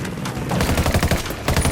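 Rapid automatic gunfire in the tactical shooter Tom Clancy's Ghost Recon Wildlands, loud, close bursts of shots firing in quick succession.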